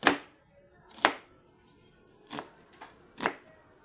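An onion being sliced with a knife for chicken adobo, four separate crisp chops spaced about a second apart, close and fairly loud, with no talking.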